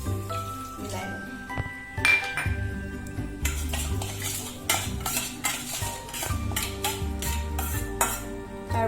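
Spoon stirring yeast, sugar, salt and warm water in a small bowl, with repeated quick metallic clinks and scrapes against the sides in a busy rhythm; close and clear with no talking.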